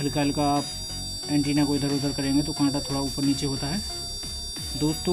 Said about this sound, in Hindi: तो ये इस तरह का बीप की आवाज़ करेगा